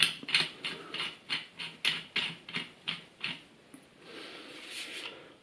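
A valve spring compressor is screwed in on a motorcycle engine, giving about ten regular ratcheting clicks close by, then a softer, steadier mechanical rasp.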